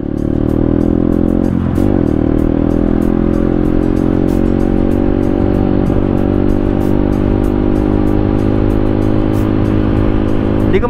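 A motor vehicle cruises steadily along a quiet alternative road route in Bulacan, its engine humming close and continuous with little change in pace, with faint wind noise over it.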